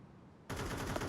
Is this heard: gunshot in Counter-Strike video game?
yes